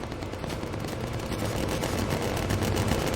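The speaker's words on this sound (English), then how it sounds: "Lapis, focus fire, BR commander, AP ammo" Aircraft guns firing in the Bomber Crew video game: a dense, continuous, rattling barrage that holds at full loudness for several seconds without a break, with no voices.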